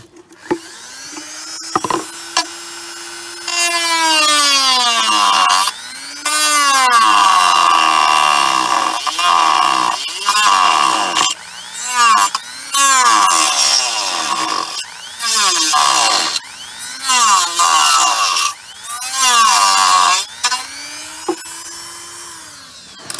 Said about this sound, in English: I just shaved off those little nubs that were off the side markers